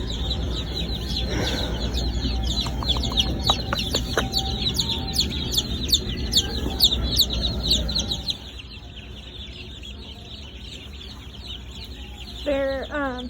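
A flock of chickens on a farm, repeated clucks and chirpy calls in bursts over a low background rumble that drops away partway through, with voices talking softly nearby.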